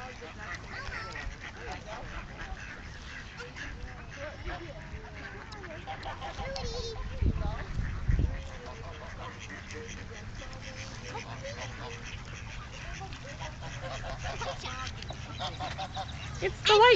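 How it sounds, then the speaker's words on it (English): White geese honking at a park pond, with bird calls scattered through a steady outdoor background and people talking nearby; a louder burst of activity comes partway through. "Yeah, those are the white geese."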